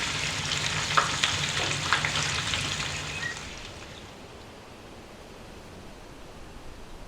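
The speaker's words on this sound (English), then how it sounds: "After a wonderful fish fry of walleye, it's time to get back to the challenge." Fresh-caught walleye fillets fry in a pan with a loud, steady sizzle for about three seconds, then the hiss fades to a faint, even background crackle; no voices.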